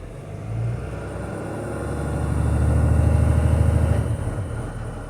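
A school bus engine in drive with the parking brake set rumbles low, then revs up and holds a steady, strained drone before easing back, close and alone.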